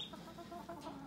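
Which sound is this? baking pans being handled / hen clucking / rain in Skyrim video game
hen clucking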